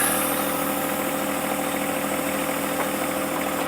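A tractor engine idles close by, a steady even rumble with a faint knocking vibration, running alone without talk.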